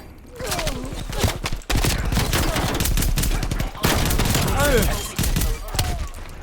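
A Street Sweeper shotgun firing rapidly in Call of Duty: Black Ops Cold War, with loud, fast strings of blasts in near-continuous bursts separated by short gaps, mixed with someone talking over the shooting.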